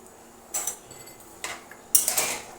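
Oil-free potato fry with salt and cumin powder stirred in a pan: three separate bursts of spoon scraping and clinking against the metal, quiet and close, with soft gaps between.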